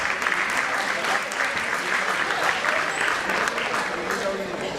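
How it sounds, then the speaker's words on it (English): Applause from the audience at a medical oration lecture, dense and continuous, many hands clapping at a steady level that holds throughout with no break. "A round of applause."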